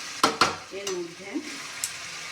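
Chicken fries in a pan for a Bengali curry, with a soft sizzle under a couple of sharp utensil scrapes and clinks near the start, a faint voice murmuring in the background.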